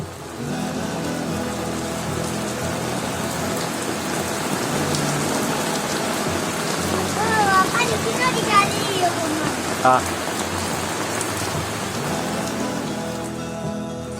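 Heavy rain pours down without pause, a dense, steady hiss of drops striking surfaces close by, holding an even loudness from start to finish.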